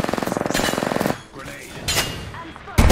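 Rapid automatic gunfire from the battle-royale shooter Apex Legends, a loud rattling burst for about a second, followed by quieter game effects and another loud burst at the end, with game voice lines in the mix.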